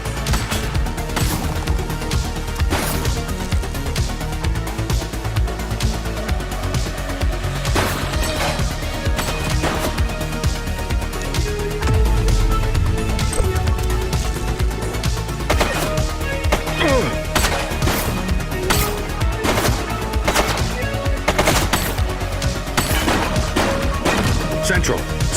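Rapid gunfire in The Precinct video game crackles in repeated bursts and single shots over a dense, busy game soundtrack, loud and close throughout.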